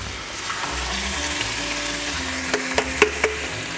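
Vegetables and pasta sauce sizzle steadily in a frying pan, a continuous close hiss of frying, with a few sharp clicks of utensils near the end.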